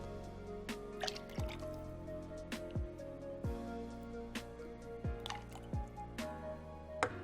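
Freshly juiced pineapple juice poured out in short dripping, splashing bursts, each with a falling glug, repeating irregularly at close range with no talking.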